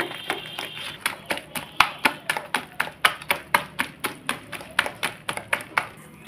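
Rapid rhythmic tapping as red lentil batter is whisked by hand in a bowl, a steady train of quick strokes up close.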